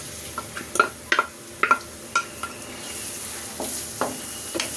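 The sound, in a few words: onions frying in mustard oil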